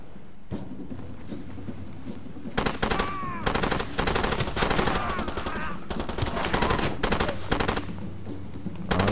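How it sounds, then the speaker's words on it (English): Bursts of automatic fire from an M249 SAW belt-fed machine gun in the Far Cry 2 video game, long rattling volleys repeating loudly after a quieter opening, with scattered game effects between strings of shots. "So there's a demonstration of the M249 saw and its bestiality."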